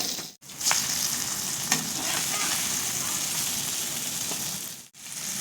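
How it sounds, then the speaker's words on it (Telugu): An omelette sizzles steadily in a frying pan, a close, continuous crackling hiss with a couple of brief dips and faint scraping touches, no voices over it. "ఇప్పుడు ఆమ్లెట్ లాగా తిప్పేసుకోవటం దీన్ని కొంచెం వేగిన తర్వాత"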